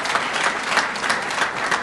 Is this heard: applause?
yes